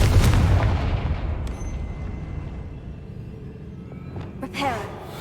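A Confringo fire-blast spell explodes in Hogwarts Legacy with a loud, deep boom at the start that rolls into a long, fading rumble, followed by a smaller crackling burst near the end.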